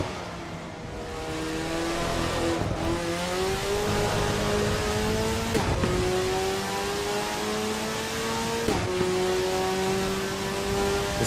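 A race car's engine in Assetto Corsa EVO revs hard and loud, climbing through repeated gear shifts with brief dips between pulls, a steady whirring drone running underneath.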